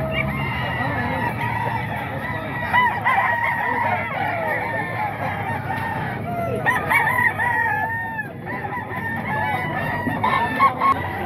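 An eight-month-old rooster for sale at the Bocaue tiangge market crows and clucks repeatedly amid steady crowd noise and background chatter.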